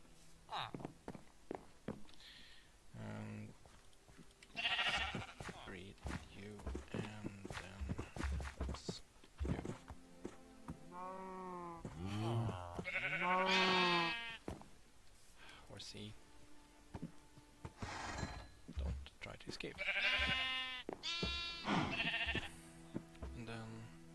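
Minecraft sheep bleat again and again in wavering cries spread across the scene, mixed with steady in-game footsteps and the clip-clop of a horse nearby.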